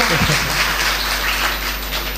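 A loud wash of clapping from a crowd, continuous and dense, fading slightly toward the end.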